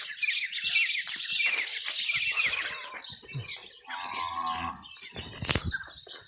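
A cow at a Maldhari village farm in Gujarat lets out a drawn-out moo, nearby and fairly loud, with birds chirping and wings flapping around it.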